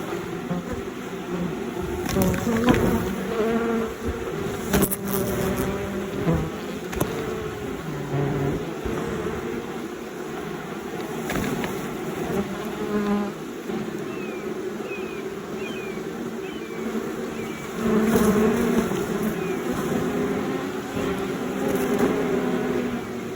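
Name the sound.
swarm of honeybees buzzing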